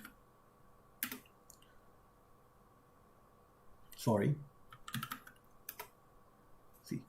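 Commands are typed on a computer keyboard to compile a C++ program, with a few scattered key clicks and a sharper enter-style tap, heard quietly alongside soft talking.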